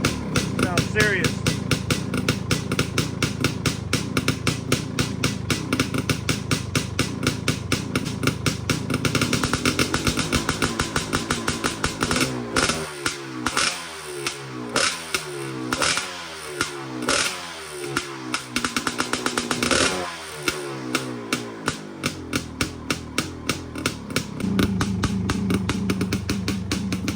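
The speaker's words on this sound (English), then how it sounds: "I don't think there's a better sounding idle on any ATV." Suzuki LT500R Quadzilla ATV engine idling close by, a loud rapid chugging beat that lopes unevenly, with revs dipping and surging in the middle before settling back into a hard, pulsing idle.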